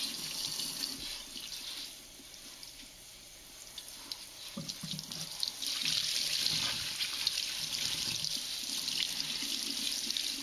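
Water from a tap rinses a dirty motocross bike air filter in a sink, a steady running flow with splashing and a louder gush partway through, no voices.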